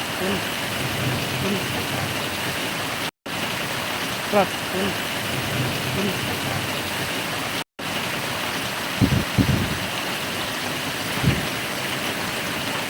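Heavy rain pours steadily over farmland, a dense continuous hiss with a few brief louder knocks and thumps, and a voice calls out briefly amid the downpour.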